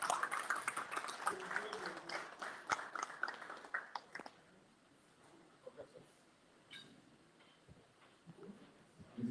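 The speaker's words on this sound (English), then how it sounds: "let's give our guest speaker a round of applause" An audience applauds a guest speaker at an inauguration lecture and swearing-in, a fairly faint patter of clapping that fades out after about four seconds, followed by scattered quiet room noise.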